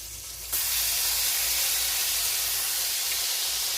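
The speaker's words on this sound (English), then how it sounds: "So all we want to do is just sear it." A beef steak for drunk steak goes into a hot pan, a loud sizzling hiss bursting in after a brief quieter moment and holding steady and close.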